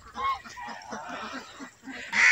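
Honking, quacking waterfowl calls repeat in a quick, chattering series, fairly close, with a brief louder burst at the end.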